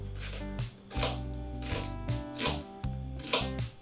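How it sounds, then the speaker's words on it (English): A knife cuts yellow onions into long strips, a steady rhythm of about six crisp slicing strokes with soft pauses between them, close by and without talk. "I'm going to just show you how you need to cut the onions so that they stay sort of long."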